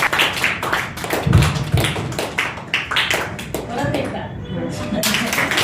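A crowd at a Ramai Ambedkar birth anniversary event claps steadily in a dense, rapid patter of many hands, loud and close, with a voice briefly audible beneath.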